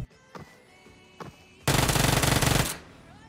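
Automatic gunfire in the battle royale game PUBG Mobile during a solo ranked match: a few isolated shots, then a long, loud, dense burst lasting about a second.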